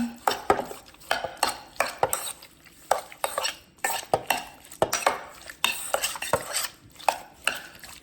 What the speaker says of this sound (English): Just gonna mix it up with a spoon.